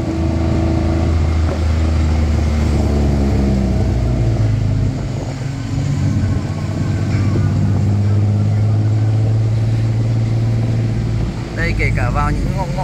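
Street traffic in Thailand with cars and motorbikes, a steady rumble of engines passing close by and continuous throughout, with a voice talking over the traffic.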